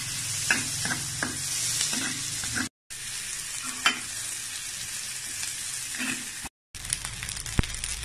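Chicken pieces coated in flour and corn flakes fry in canola oil, giving a steady sizzle with soft stirring scrapes and a few brief pauses.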